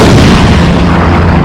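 A deep, continuous cosmic boom from a weak asteroid exploding as it strikes Earth's atmosphere, loud and rumbling low throughout with no pause or voices.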